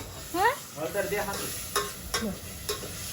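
Fish curry sizzles in a pan while a utensil scrapes and stirs in short strokes, with a few quiet clinks.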